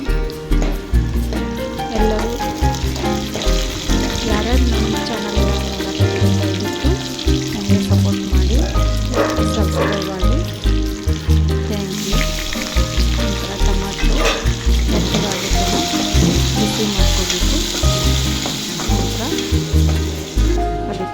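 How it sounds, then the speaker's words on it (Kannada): Chopped tomato goes into garlic and curry leaves frying in a pan for a North Karnataka peanut saaru, with a loud continuous sizzle and bubbling and steady stirring scrapes throughout. "ಬೆಳ್ಳುಳ್ಳಿ ಕೆಂಪು ಆದ ನಂತರ ಅದಕ್ಕೆ ನಂತರ ಟೊಮೊಟೊ ಹಾಕ್ಕೊಳ್ಬೇಕು"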